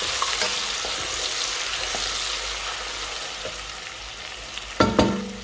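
Garlic fries in hot oil for a hilsa fish curry, giving a steady, close sizzle that holds throughout, with a short clatter near the end.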